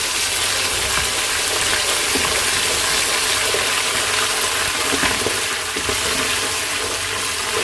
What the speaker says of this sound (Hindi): फ्राई कर लूँगी, जो कि प्याज है वो हल्का ब्राउन हो जाए।